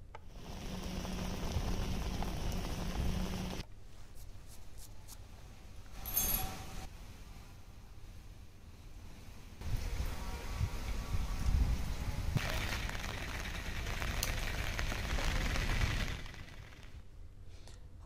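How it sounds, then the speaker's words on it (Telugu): Incessant heavy rain from a cyclonic low-pressure system over the Bay of Bengal pours down across Nellore district, a dense steady wash of noise that drops and swells across several cuts. "తుఫాను ప్రభావంతో ఎడతెరిపిలేని భారీ వర్షం కురుస్తోంది"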